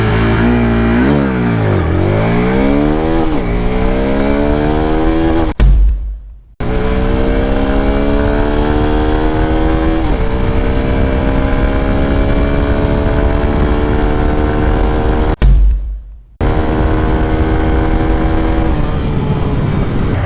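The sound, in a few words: Hero Xtreme 160R 4V motorcycle accelerating 0 to 100 run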